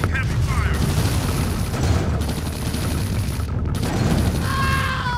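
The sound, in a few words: gunfire in a video game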